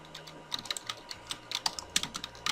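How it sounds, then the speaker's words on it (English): Computer keyboard typing at a desk during a game-building tutorial, with quick irregular clusters of close key clicks and no talking. "Sorry if you guys can hear my keyboard."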